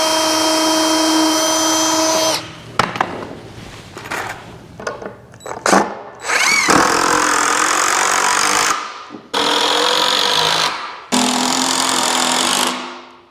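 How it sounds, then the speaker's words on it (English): A power drill pre-drills holes and drives 3-inch screws into the corners of a wooden deer stand, with loud whirring bursts of several seconds broken by short pauses and clunks. "then we will pre-drill some holes into them and put the 3-inch screws in there"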